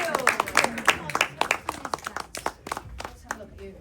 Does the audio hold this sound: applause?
yes